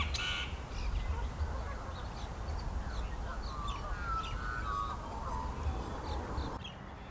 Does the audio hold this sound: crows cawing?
yes